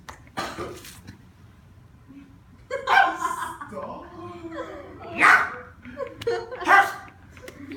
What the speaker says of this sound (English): Because she doesn't bark like a normal dog does. She screams at you.